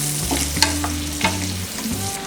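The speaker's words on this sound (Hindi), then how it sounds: "इसमें डालेंगे ये अनियन, अनियंस थोड़े सॉफ्ट होने तक हम इसे फ्राई करेंगे।" Onions frying in a pan for white sauce pasta: a steady close sizzle with a few scraping stirs, alone without talk, and a low background hum underneath.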